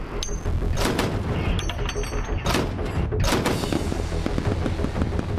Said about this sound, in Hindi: इस दौरान बड़े कैलिबर मशीन गनों और छोटे हथियारों से गोलीबारी की गई